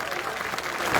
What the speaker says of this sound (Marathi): या लेकराच्या नावाने सर्वांनी टाळ्या वाजा